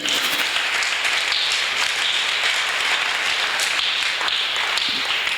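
A church congregation applauds to acclaim Jesus during a Sunday sermon, a steady dense wash of clapping at even loudness throughout, with no clear voice over it.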